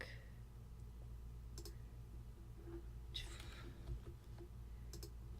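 Computer mouse clicks while editing in Photoshop, a few sharp close clicks and light taps spaced across a quiet stretch with faint background hum.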